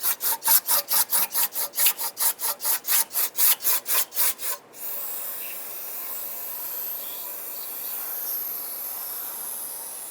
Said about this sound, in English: just give these areas where the gaskets go a little clean